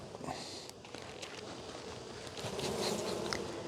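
Honey bees swarm and buzz steadily and fairly close during a late-August hive inspection, a dense continuous drone with a few faint knocks from frame handling and no talk.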